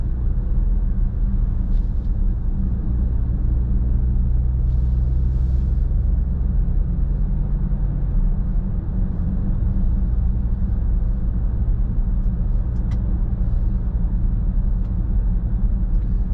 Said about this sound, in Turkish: Çok konforlu bir araba.